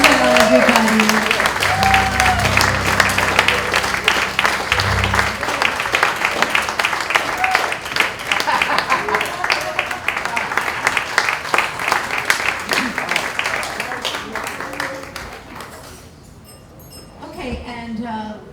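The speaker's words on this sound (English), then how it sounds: "Let's cheer as well" Cabaret brunch show audience claps and cheers in sustained applause for about fifteen seconds, then it fades as a voice begins speaking.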